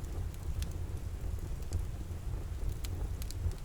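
Gentle rain keeps up a soft, even patter with occasional brighter drips and a low muffled rumble beneath, close and continuous, without voices.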